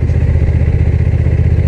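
A Honda NT1100 DCT motorcycle engine thrums with a rapid, even low pulse, loud and close, holding a steady beat throughout with no one speaking.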